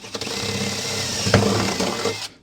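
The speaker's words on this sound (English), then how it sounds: "All right, now we're gonna drill a hole here." A power drill whirs continuously for a couple of seconds, drilling a 5/16 hole on a Club Car Precedent golf cart, with a brief bump in pitch and load midway, then stops.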